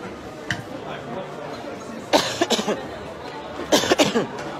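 Several bursts of coughing, a single cough early on, then two rough clusters of coughs, fairly close, with quiet room noise between.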